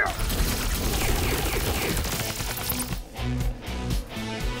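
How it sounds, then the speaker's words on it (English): Cartoon energy beams firing in an animated sci-fi battle, a loud, dense rush of blasts and crackling that fills the scene, then gives way to pulsing, repeated zaps. "Aaron, charge up the Ultra Omega Beams, now"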